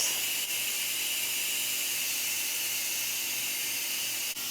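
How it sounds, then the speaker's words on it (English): Steady broadband hiss of steam venting, continuous and fairly loud throughout, with no talking. "And we can let the rest of the steam out."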